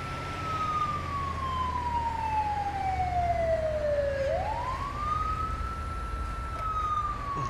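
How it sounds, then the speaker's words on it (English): Ambulance siren in GTA 5 with an Australian emergency mod: one continuous wail that glides slowly downward, then swoops back up and holds, steady and moderately loud over a constant engine-like background rumble. "there's an ambulance coming"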